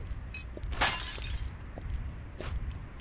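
In the video game Sly 2: Band of Thieves, a glass bottle is collected in Paris, producing one short, bright glassy clink, then a fainter second one later over quiet background ambience.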